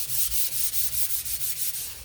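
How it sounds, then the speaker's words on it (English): Sandpaper rubs back and forth along the grain of a wooden sign's border, about ten even, rhythmic rasping strokes close up with no talking. "I haven't sanded it yet, so I'm just going to quickly do this with the grain again,"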